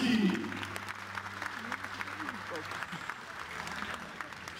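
Stadium applause at GKS Katowice's 2019/2020 squad presentation, a sustained crowd clapping that starts loud and settles into a steady patter, with an announcer's voice over it and a brief musical tone early on.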